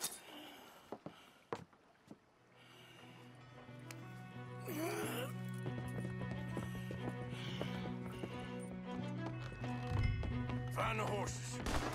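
Horses' hooves clip-clop steadily in Red Dead Redemption 2, an even trotting rhythm under a swelling music score, with scattered sharp knocks early on.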